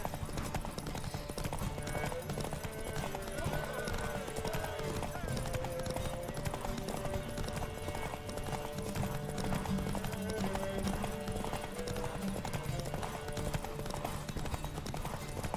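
Galloping horse hooves patter in a steady rapid rhythm during a race in The Witcher 3, a continuous clip-clop at moderate level, with faint background talk mixed underneath.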